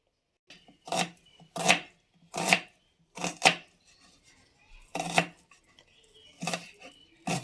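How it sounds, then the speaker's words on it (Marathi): An onion is chopped with a knife on a board in about nine sharp, separate strikes at an uneven pace, close and crisp against a quiet background. "मम्मी चिरते कांदा पहिला कांदा चिरायचा आपल्याला"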